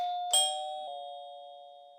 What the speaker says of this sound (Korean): 그때 초인종이 울렸다.